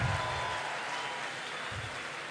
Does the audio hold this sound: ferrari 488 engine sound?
no